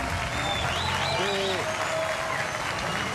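Steady crowd applause fills an outdoor gathering around a giant water jet at Perón and Cacique Lambaré, dense and continuous with a few whistles or calls mixed in.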